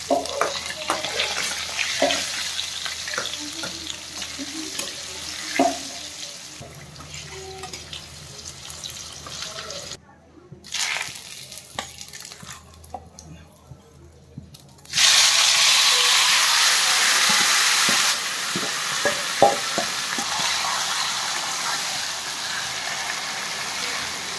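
Marinated chicken fries in oil with masala for a waterless red chicken gravy, a continuous sizzle broken by stirring scrapes, briefly quieting before a loud, sustained burst of frying hiss.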